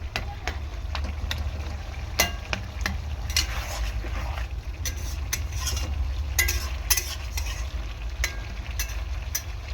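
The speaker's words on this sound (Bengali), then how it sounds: "মাছের মাথাগুলো একটু ফাটিয়ে ফাটিয়ে দিচ্ছি" Fish heads frying in a pan with bitter gourd and sweet potato are broken apart by a spatula, giving repeated sharp scraping taps over a low continuous sizzle and rumbling background.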